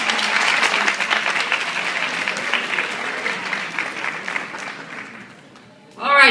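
An audience applauds steadily as a woman named Camille is welcomed onto a stage, the clapping loud and sustained before fading, with a brief burst of voice at the end.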